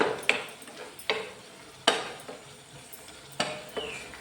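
A spoon scrapes and stirs prawn roast with curry leaves in a hot pan, a few sharp clanks over a soft background sizzle, close and with no talk.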